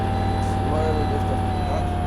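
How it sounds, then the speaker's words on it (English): A Karosa C954 bus engine in OMSI 2 drones steadily and close, a constant low rumble with a faint pitch rise as it revs in sixth gear before the clutch is lifted. "So rev it all up."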